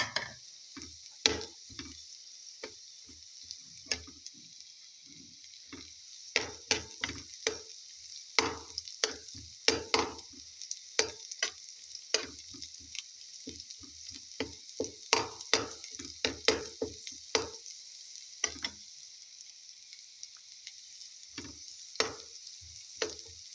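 Garlic for fried rice fries in a pan with a steady high sizzle, cut by frequent sharp clicks and taps of a utensil stirring against the pan, close and continuous.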